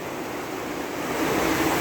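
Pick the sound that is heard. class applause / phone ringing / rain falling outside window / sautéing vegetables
rain falling outside window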